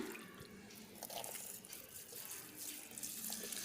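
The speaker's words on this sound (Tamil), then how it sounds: "இப்போ செடிகள் வந்து எல்லாத்துக்குமே நான் வந்து தண்ணி விட போகிறேன்" Water is poured onto home garden plants, including radish, as a steady, close splashing stream running without pause and with no talk.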